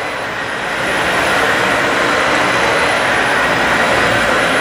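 A Dyson Slim Ball upright vacuum running on carpet gives a loud, steady rushing roar of airflow and suction that swells slightly at the start, then holds constant and close.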